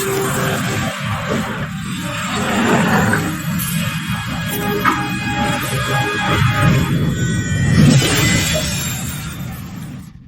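A monster in the Black Myth: Wukong video game roars and howls loudly in a dense, sustained growl that swells and fades over several seconds, layered with rushing noise.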